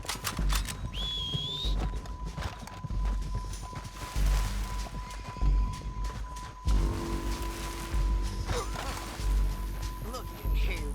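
Horses clip-clop and neigh amid a busy, layered soundscape in Red Dead Redemption 2, with whistles, thuds and a steady tone running throughout.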